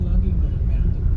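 Inside a moving car on a rural road, a steady low engine and road rumble continues throughout the short stretch.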